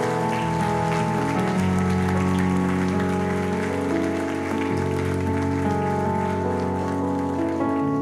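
A church congregation bursts into sustained, dense applause during a worship service, a loud even wash of many hands clapping together without pause, with music or organ tones sounding underneath.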